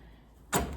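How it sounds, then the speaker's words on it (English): A stable door in a horse barn opens with a sudden short scraping rush, near and moderately loud after a quiet moment. "when I open the door"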